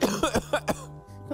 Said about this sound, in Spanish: Cuando la risa termina en tos, es para preocuparse.